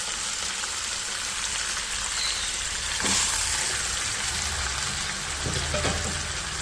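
Marinated chicken hits hot oil with fried garlic, ginger and masala, sizzling steadily and close, with a louder burst of hissing and stirring partway through.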